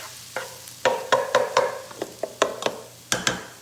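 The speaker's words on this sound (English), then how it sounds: "Give it a stir" Peas and carrots stirred in a cooking pot of Mexican soup, with a series of clacking spoon scrapes in an irregular rhythm over a soft sizzle, close and clear with no talk.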